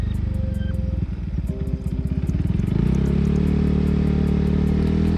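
A Honda PCX 160 scooter with a modified aftermarket exhaust runs up close, a throbbing low idle that rises and then holds a louder, steady rumble.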